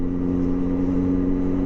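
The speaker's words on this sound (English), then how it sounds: "You've got the new exhaust on the Yamaha FZ6 Fazer." Yamaha FZ6 Fazer motorcycle fitted with a loud homemade custom exhaust, a steady, close, low droning engine note holding even throughout without revving or talk.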